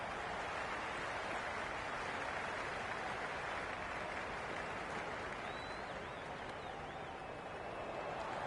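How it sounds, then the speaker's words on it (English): A crowd in the stands of a Cricket 26 Ashes Test match keeps up a steady broad roar and buzz of cheering and chatter, distant and unbroken throughout. "There's a buzz, a real buzz coming from the stands."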